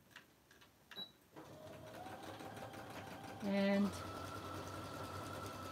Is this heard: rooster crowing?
no